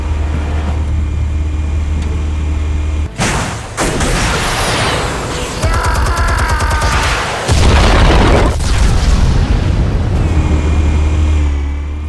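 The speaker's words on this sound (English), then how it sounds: "Explosives armed. Fire when ready." Explosives detonate in Batman: The Telltale Series, a deep booming blast with a burst of crackling debris over a steady low game rumble, followed by further loud rumbling impacts.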